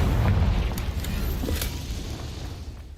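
A Confringo fire spell in Hogwarts Legacy detonates in a loud, deep boom at the start, then rumbles and crackles as it slowly fades over a few seconds, with faint sharp bursts along the way.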